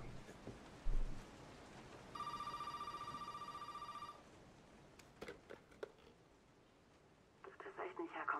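Telephone in the video game Resident Evil 7 rings in a two-second burst, then fades into quiet ambience with scattered clicks and a brief electronic tone near the end, with a voice talking faintly.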